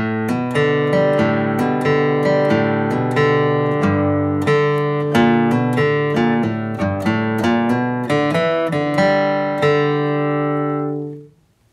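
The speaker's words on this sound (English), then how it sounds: "we'll play this two measure bluegrass lick." Flatpicked acoustic guitar playing a two-measure bluegrass lick for Cripple Creek, a quick run of bright, clearly articulated picked notes in steady rhythm, played alone and ringing out before fading at the end.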